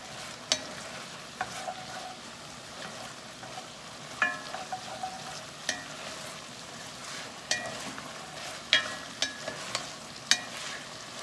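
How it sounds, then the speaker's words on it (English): Sausage and mushrooms brown in a pan, giving a low, steady sizzle. A spatula scrapes and clinks against the pan at irregular intervals, with no voices over it. "So I'm just gonna kind of stir it, spread it out again, let it brown"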